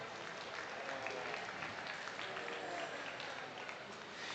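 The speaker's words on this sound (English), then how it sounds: "let's give these guys a nice round of applause" Spectators at a junior breeding sheep show at a state fair give a round of applause, a faint, distant, continuous patter of clapping in a large hall.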